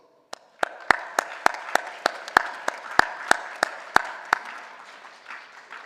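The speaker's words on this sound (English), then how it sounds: "let's give them a round of applause" Graduates at a community college commencement ceremony clap in a slow, sparse rhythm of distinct sharp claps over a soft wash of wider applause, which gradually thins out toward the end.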